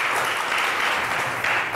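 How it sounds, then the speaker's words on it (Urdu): Studio audience applause on a Pakistani entertainment talk show, a steady, dense wash of clapping that holds at full volume throughout with no voices over it. "غزالہ جاوید ہمارے ساتھ موجود ہیں، ان کے لیے بھی تھوڑی تالیاں بجا دیں ذرا"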